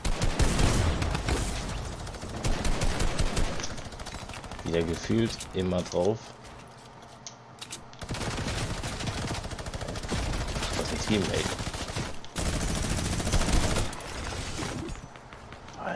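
Minigun fire in a Fortnite-style shooter comes in long rapid bursts broken by short pauses, loud and dense, while a player talks over parts of it.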